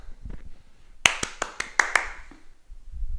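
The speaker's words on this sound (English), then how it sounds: "you can clap and catch with one hand" Sharp hand claps, about six in quick succession, mixed with light taps of a tennis ball bouncing during a home primary school tennis catching drill, close and clear, with faint talk before and after.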